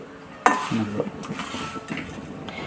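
Mustard seeds crackle while chana dal and urad dal fry in a pan, with a sharp clink at the start followed by utensil stirring and scraping over a low, steady sizzle.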